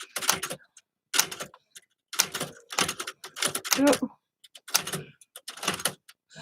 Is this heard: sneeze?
no